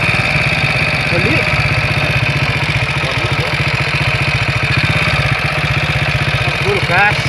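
A motorcycle engine runs steadily on a steep hill-climb slope, a close, even mid-pitched idle-like throb with a regular pulsing rhythm throughout, loud and unbroken, with faint voices in the background.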